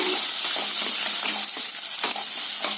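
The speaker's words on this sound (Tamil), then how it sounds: "அதையும் சேர்த்திட்டு நல்லா இந்த ஆயில்ல பொன்னிறமா வதக்கிக்கலாங்க" Sliced onion and slit green chillies sizzling in hot oil while being stirred in a pan for brinjal rice, a loud continuous crackling hiss with the occasional scrape of a spatula.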